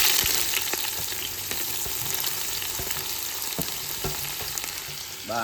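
Sliced onions hiss and crackle in hot oil with whole spices in a pan, a dense, continuous sizzle heard up close with intermittent stirring clicks and no voices.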